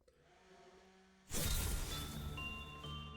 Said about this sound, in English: Someone is using a blender outside my room, so I apologize if you hear the blender.